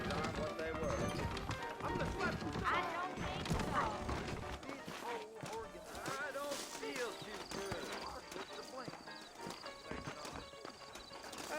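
Saddled horses' hooves clip-clop steadily in a Red Dead Redemption frontier scene, with an occasional whinny and game voices talking over the hoofbeats throughout.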